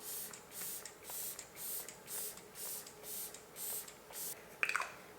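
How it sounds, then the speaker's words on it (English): Hourglass Veil setting spray misted in a rapid series of about nine short, soft hissing puffs at a steady rhythm, close and quiet, ending with a faint click. "Just a little bit of setting spray. Hourglass Veil Setting Spray."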